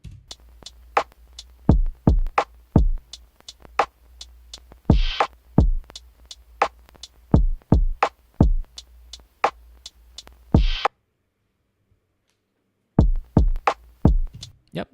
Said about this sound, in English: And the beat sounds something like this.